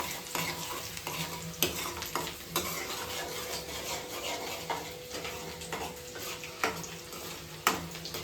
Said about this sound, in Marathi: आता हे सगळं आपल्याला हाय फ्लेमवरती छान असं परतून घ्यायचं आहे.